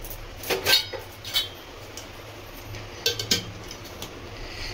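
Metal tiffin box being shut, a few bright metallic clinks and clatters as the lid is handled and pressed closed, in two short clusters with a quiet pause between.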